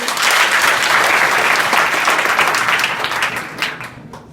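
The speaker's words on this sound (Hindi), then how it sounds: "तो ताली बजाए रोहित के लिए।" Audience applause for a student at a college event, a loud dense burst of many hands clapping that holds steady before fading out near the end.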